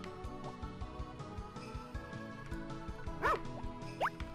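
A dog in the farming game Harvest Moon: Back To Nature gives a couple of short, bright barks near the end, over looping game music with a steady bouncy beat.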